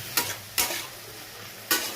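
Fenugreek greens with salt and turmeric sizzle steadily in a frying pan, with three sharp scraping strokes of a spatula stirring through them, close and alone.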